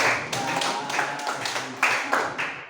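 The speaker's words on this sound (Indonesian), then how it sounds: "Beri tepuk tangan untuk kelompok 5" A classroom of students claps for a presenting group, a loose stretch of irregular hand claps with sharper bursts near the end, fairly close and without speech.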